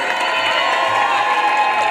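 Crowd at a Lyon rally for a Middle East ceasefire cheering and applauding singing protesters, a loud, dense, continuous roar of voices and clapping close by.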